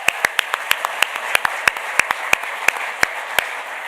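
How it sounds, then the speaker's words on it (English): Applause at a military families awards ceremony, sharp close claps spaced out in a loose rhythm over a softer wash of clapping, with no talking. "Let's give them all a round of applause."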